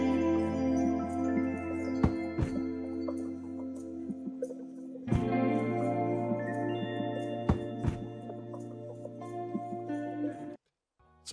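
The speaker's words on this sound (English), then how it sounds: "we started by adding these perk loops and perks" Hip-hop percussion loops play alone, a busy pattern of sharp clicks and hits over sustained tonal layers, with a short gap and a fresh hit right at the end.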